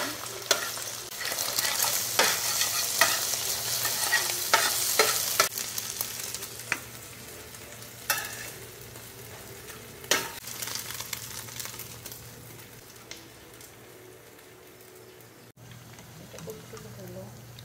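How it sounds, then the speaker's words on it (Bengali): Egg frying in a hot pan with oil, sizzling steadily while a utensil stirs and scrapes in repeated strokes, louder in the first half and easing off later, no talking. "গরম হয়ে গেছে, এখন ডিমটা দিয়ে দিব, নাড়াবো ভালো করে।"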